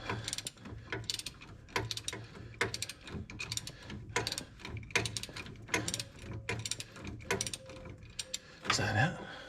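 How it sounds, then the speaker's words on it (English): Hand wrench working a threaded steering fitting loose on a 2006 Chevy 2500HD, giving a series of quick ratcheting clicks in short bursts with pauses between them, close and fairly clear, while a low background hum runs underneath. "I can get my hand wrench in there"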